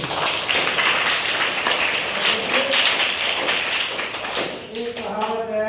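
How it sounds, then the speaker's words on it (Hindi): A classroom of students claps together, a dense rolling patter of many hands at close range, steady for several seconds before tapering off as voices start speaking. "जोरदार ताली बजाइए।"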